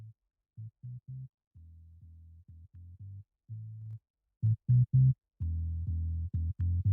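Roots and Dub Bass 01 loop in BandLab: a deep, rounded bass line of short and held notes in a syncopated reggae-dub rhythm, fairly quiet and alone.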